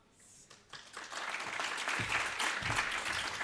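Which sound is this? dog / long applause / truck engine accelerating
long applause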